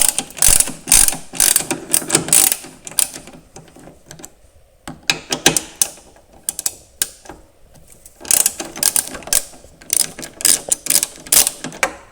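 A ratchet wrench clicks in quick bursts as it loosens bolts on the upper hatch latch of a VW Golf Mk4, with short rapid runs of ratcheting separated by brief pauses.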